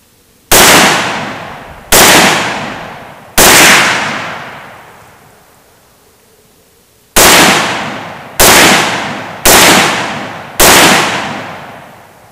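An MSAR STG-556 rifle fires seven loud, sharp shots, spaced unevenly with a longer pause midway, each report ringing and decaying outdoors.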